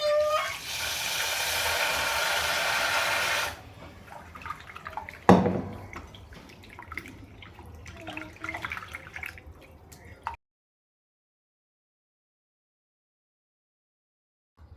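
Lentils are rinsed with water in a home kitchen: a few seconds of loud pouring splash, then softer swishing, clinking and dripping before silence.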